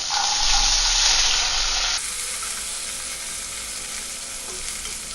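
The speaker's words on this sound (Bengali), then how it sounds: "গাজর আর বিনসটা আমার ভালো করে ভাজা হয়ে গেছে।" Carrots and beans frying in a wok with dried red chilli and whole cumin, a bright constant sizzle close by that softens midway as stirring continues, with a faint tone at the start and no speech.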